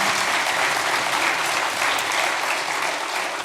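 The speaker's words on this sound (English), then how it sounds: "So please give them a big round of applause" A conference audience applauds steadily and loudly at a tech conference closing presentation, dense clapping sustained from start to finish with no voices over it.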